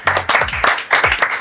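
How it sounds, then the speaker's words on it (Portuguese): A small group clapping, several hands in a quick, uneven burst of applause, close and fairly loud, with no talk over it. "Palmas!"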